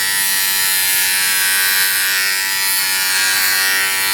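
Philips Norelco OneBlade Pro electric shaver running without its comb, with a loud steady close-up motor buzz that holds constant throughout and no talking.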